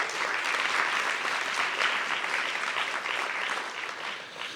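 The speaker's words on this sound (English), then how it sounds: "So a big round of applause for Jason, please" Audience applauding at an arts equity summit keynote, a steady, dense wash of many hands clapping for several seconds, slowly tapering toward the end.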